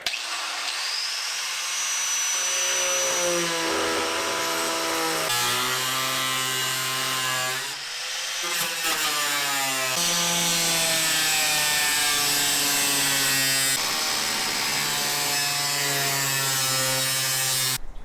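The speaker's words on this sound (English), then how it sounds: "I'm going to take an angle grinder and start cutting into my new good chassis" An angle grinder cuts into the steel chassis of a Nissan S13 240SX during rust repair, a loud continuous grinding whine with shifting pitch as the disc bites, briefly easing around the middle before resuming, with no talk.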